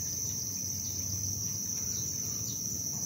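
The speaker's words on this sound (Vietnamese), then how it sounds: "Con dế rất là đẹp bà con ạ." Crickets at a cricket farm chirp in a dense, continuous high trill, an even steady chorus over a low background rumble, with no voices.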